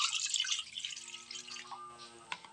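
Water is poured and drips onto cut pumpkin pieces in a pot set for boiling, a close splashing trickle that thins into scattered drips.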